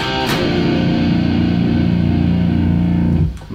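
A sustained, heavily distorted electric guitar chord rings loudly, then pitch-dives sharply via a whammy pedal before cutting out at the end.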